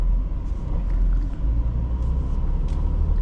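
A Ford Police Interceptor Utility Hybrid SUV with the 3.3L engine pulls hard under acceleration, its low, steady engine and road rumble filling the cabin throughout with no talking.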